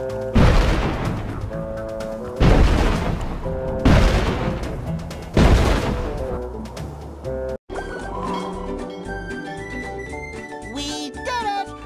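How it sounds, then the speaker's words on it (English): Several heavy ship cannon booms in SpongeBob SquarePants: Battle for Bikini Bottom fire one after another at spaced intervals, loud and close, followed by a stretch of music with game sound effects. "you'll be able to shoot the Dutchman's cannons to destroy the robot ship"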